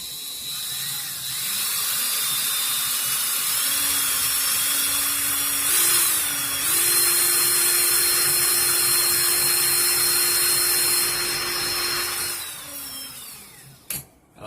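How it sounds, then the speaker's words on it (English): An electric drill spins to wind vape coil wire into alien coils, a close, steady whine that holds for about ten seconds and steps up in pitch before winding down, then a short click. "pulsing the drill, letting your hand catch up"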